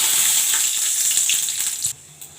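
Spices tempering in hot oil for a Bengali aloo posto dal, a loud, bright, steady sizzle close up that cuts off abruptly near the end, leaving a faint hiss.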